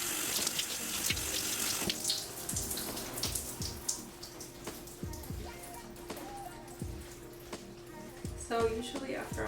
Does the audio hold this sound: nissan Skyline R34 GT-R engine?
no